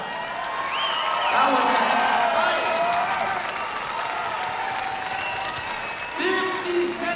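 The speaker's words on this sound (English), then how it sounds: "Let's give these guys a big round of applause" A fight-night crowd claps and cheers after a bout, loud, steady applause that swells and fades while an announcer talks over it.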